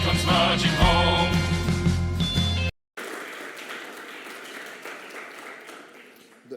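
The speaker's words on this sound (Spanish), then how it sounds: "No aplaudan demasiado pronto." Audience applause at a talk on the history of Swiss anarchism, a steady broadband clatter of many hands that follows a burst of music, breaks off briefly, then continues alone.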